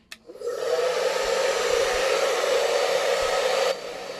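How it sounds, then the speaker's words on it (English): A hair dryer blows on a craft piece. It switches on after a short click and runs steady and fairly loud for about three seconds, then cuts off. "I'm going to blow dry it just really quickly for 2 seconds here."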